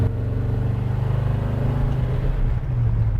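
A 1956 Chevrolet Bel Air drives along with its engine and exhaust giving a steady, loud, low rumble that rises slightly in pitch near the end.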